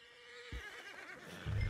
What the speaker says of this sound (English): I've been meaning to offload this big Shire horse for a while now